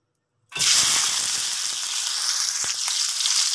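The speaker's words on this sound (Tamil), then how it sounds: "இப்போ வந்து நம்ம வெங்காயம் போட்டு பொரிக்க போகிறோம்." Onions dropped into hot oil that was already used for frying: a sudden loud sizzle bursts in after a moment of silence and holds as a steady, bright, crackling hiss.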